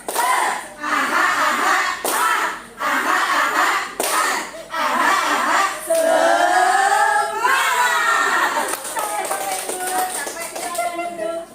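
A group of adults at a teachers' workshop performs a rhythmic spirit clap, bursts of patterned hand claps broken by short pauses, with chanting voices and cheering mixed in, loud and close.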